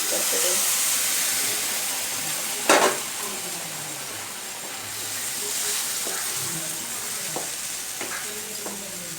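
Egg tarka fries in a pan with a steady close sizzle and hiss, broken by a few scraping clicks as it is stirred.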